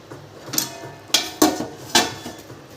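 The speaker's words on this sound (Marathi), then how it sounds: "झाकण ठेवू" A metal lid set down onto a pan of Maharashtrian dry capsicum stir-fry, giving a few sharp clanks close by with short gaps between them and no voices.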